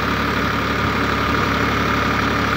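A tractor engine idles steadily while driving an alternator-type PTO generator, a constant dense mechanical drone and hum with no pauses and no voices.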